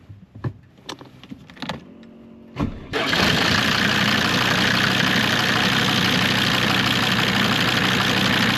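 A Mercedes 190 turbo diesel, abandoned for years, gives a few short clicks and cranking bursts, then catches and settles into a loud, steady diesel idle that runs without a break to the end.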